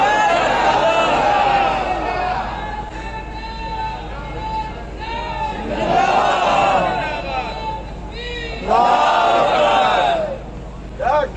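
A large crowd at a religious gathering shouts back in unison in response to a slogan, in three loud swelling bursts separated by murmuring chatter.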